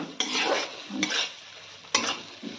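Marinated chicken dropped into a pan of fried onions for chicken do pyaza, with a few sharp stirring and scraping strokes over a steady close sizzle.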